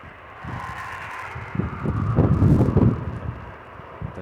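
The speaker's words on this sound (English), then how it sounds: "There's the gust of wind that I used" A gust of wind buffets a microphone outdoors, swelling from a low rumble into a louder, blustery roar in the middle and then easing off, with no talking.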